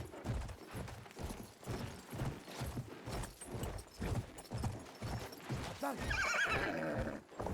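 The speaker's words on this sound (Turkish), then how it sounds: "Atı seçili otomatikmen süvari moduna geçiyor" Horse in the video game Battlefield 1, galloping in cavalry mode with a steady, rhythmic clip-clop of hooves throughout and a loud whinny near the end over game noise.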